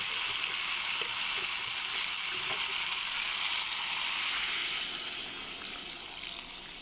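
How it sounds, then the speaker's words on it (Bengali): Water pours into a pan of spiced potatoes and pointed gourd frying in oil, giving a steady broad hiss and sizzle that stays loud throughout and eases slightly toward the end, with no voices. "আলু পটল সেদ্ধ হওয়ার জন্য পরিমাণ মতো জল দিয়ে দিচ্ছি।"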